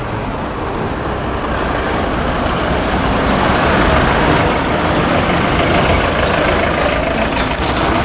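Heavy street traffic in Rome at a stop for the 447 bus is heard as a loud, steady roar of passing trucks, buses and cars, close and continuous throughout with no pauses.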